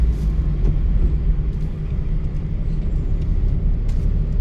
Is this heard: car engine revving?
yes